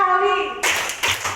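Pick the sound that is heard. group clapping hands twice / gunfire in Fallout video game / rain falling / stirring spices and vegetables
group clapping hands twice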